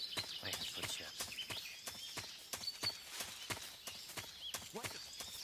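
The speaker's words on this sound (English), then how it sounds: "I hear footsteps." Footsteps of an approaching guard in Metal Gear Solid 3 sound as a faint, regular series of crisp steps, clicking along at a steady pace with a soft outdoor ambience behind them.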